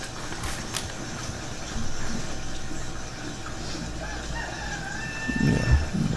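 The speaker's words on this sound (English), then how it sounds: "Yeah, that's a rooster" A backyard rooster crows in a long drawn-out call near the end, with faint clucking earlier, over a constant wash of splashing water from a garden water feature.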